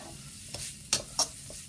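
Chopped celery stir-fries in a pan for chicken fried rice, a soft sizzle broken by three or four quick spatula scrapes and tosses over under two seconds.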